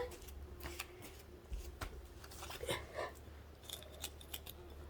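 Fresh whole green beans snipped one after another with a knife or shears, a series of quiet crisp cuts in an even, irregular rhythm, close and soft with no talking.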